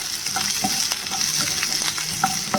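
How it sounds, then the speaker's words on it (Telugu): Fish pieces frying lightly in oil in a pan, a steady close sizzle with soft stirring scrapes and small pops all the way through, no voices. "ఇవి లైట్గా ఫ్రై చేసుకోవాలి మరీ మొత్తం మగ్గాల్సిన అవసరం లేదు జస్ట్ ఆ పచ్చి వాసన పోయే వరకు ఇలా వేపుకోవాలన్నమాట"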